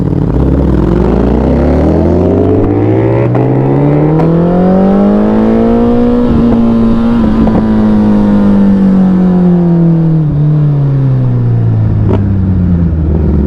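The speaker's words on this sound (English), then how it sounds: "The exhaust. That too, it's a cold start," A loud Ducati Panigale V4 R motorcycle engine revs continuously on a cold start, pitch climbing and falling in a long sweep, with a raspy Akrapovic exhaust note throughout and no voices.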